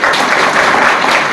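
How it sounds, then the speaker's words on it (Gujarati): Audience at a school parents' meeting breaks into loud, sustained clapping, a dense even patter of many hands close by, with no talk over it. "પણ તમારા તરફથી જે તાળી પડવી જોઈએ"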